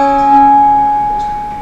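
A large handbell rings once with a sustained, shimmering tone, then is damped against the ringer's body so the overtones fade gradually rather than cutting off; close and fairly loud, with no talking.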